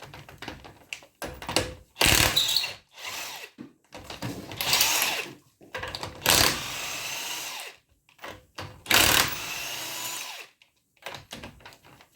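A rear wheel comes off a Ford Sierra mk1 during brake work, with several loud bursts of power tool whirring separated by short pauses.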